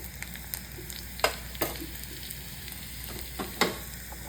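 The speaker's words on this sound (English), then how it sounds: "You can see the chilies also already fried." Chilies fry in hot oil for a Sindhi three-dal tidali tempering, with a steady close sizzle and scattered sharp pops and crackles throughout.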